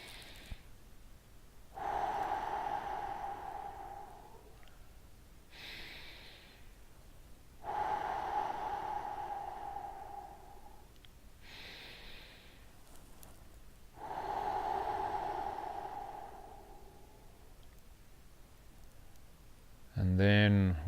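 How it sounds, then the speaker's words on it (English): Three slow, deep breaths come close and clear during a guided relaxation exercise, each a long breathy inhale-exhale separated by quiet pauses, with a brief sound at the very end. "we're going to take 3 deep breaths again."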